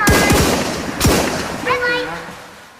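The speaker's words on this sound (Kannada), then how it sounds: "ಹಾಗೂ ಶೂಟ್ ಹೊಡಿತು." Gunfire rings out in a Squid Game-style video game: a few sharp, loud shots in quick succession, then a ringing, whining tail as the echoes fade.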